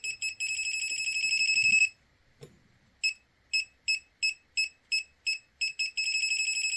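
A PeakTech P 1073 smart multimeter's non-contact voltage detector beeps: a long continuous high-pitched tone, a pause, then a rapid series of short, evenly spaced beeps that quicken into a steady tone, loud and close.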